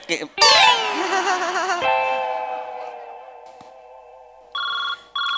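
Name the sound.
telephone ringing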